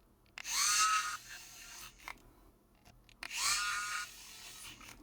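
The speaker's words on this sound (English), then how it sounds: "Fix all the screws." Small electric screwdriver driving the screws back into a MacBook Air M3 (A3113) during reassembly, two distinct whirring bursts of about a second each separated by quiet handling clicks.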